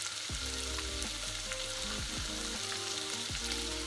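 Chopped celery and carrots sizzle and fry in a pot as the base of a broccoli cheddar soup, a dense steady crackling hiss with a few scraping stirs, close and alone.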